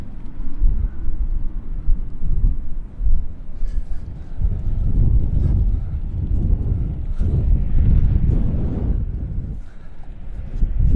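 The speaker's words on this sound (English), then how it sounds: "Just trying to stay out the wind as much as I can." Strong coastal wind after storms buffets the microphone in heavy, rumbling low gusts that rise and fall continuously, with faint scuffing underneath and no clear talk.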